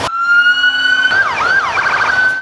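A loud, close emergency siren holds a steady tone, then breaks into rapid rising-and-falling wails.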